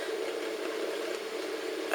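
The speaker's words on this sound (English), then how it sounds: "got the fan going so it's not too hot, and there's a purr noise you can hear, rattling." An electric fan running steadily at close range, giving a continuous purring whir with a faint rattle, alone and without pauses.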